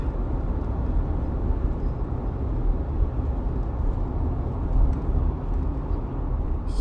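A 2024 Ford Ranger Wildtrak with a 2.0 biturbo engine accelerates hard, heard from inside as a steady low drone of engine and road noise with only faint changes where the quick gear shifts happen.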